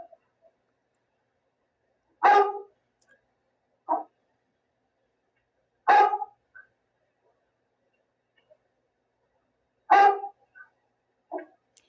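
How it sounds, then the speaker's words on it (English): A dog barks in sparse pairs, one sharp bark followed by a shorter one, repeated three times with quiet gaps between. "My dog starts to bark."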